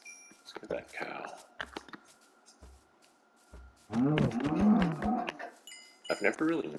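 A cow moos in a Minecraft-style survival video game, a few short low calls that swell into a longer moo, with a person talking around the sounds.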